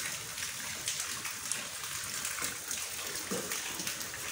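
Heavy storm rain starting in Karachi, a dense steady hiss of falling water and splashing, close and continuous throughout.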